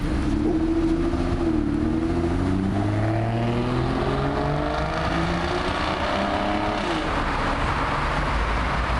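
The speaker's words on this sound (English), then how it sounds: "Just listen to a straight-piped Aston Martin DB7 with the V12 in it" A straight-piped Aston Martin DB7 V12 exhaust drones loud and continuous, its pitch sweeping up and down through revs, close and raw with no voices.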